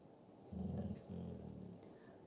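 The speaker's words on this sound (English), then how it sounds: "growling at me" A dog growls low in two rumbling bursts, one short and one longer, close and fairly quiet, in a calm indoor space.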